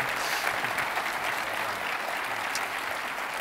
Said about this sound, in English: I just want to give the panelists just a round of applause